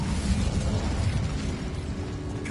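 The Incendio fire spell cast in Hogwarts Legacy, a continuous loud roaring whoosh of flame with a rumbling low end that holds steady throughout, no speech over it.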